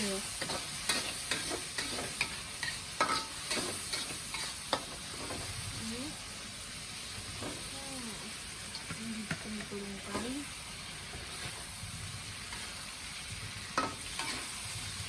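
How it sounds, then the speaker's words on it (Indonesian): Smoked fish and eggplant frying in a pan while being stirred, with steady sizzling and repeated scraping strokes of a utensil, close up, no talk. "Aku masak iwak"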